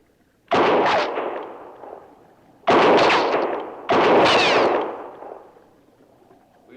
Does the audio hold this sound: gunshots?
yes